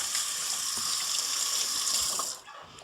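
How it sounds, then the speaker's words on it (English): Tap water runs steadily into a kitchen sink while hands are rinsed during baking, a close, even gushing hiss that cuts off abruptly near the end. "quick rinse of the hands"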